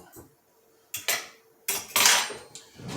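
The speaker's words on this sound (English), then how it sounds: "Couple forks. Might need to get a knife too." Forks and a knife clatter as cutlery is picked up and handled, giving several sharp metallic clinks and rattles in separate bursts, close and fairly loud, with no talk.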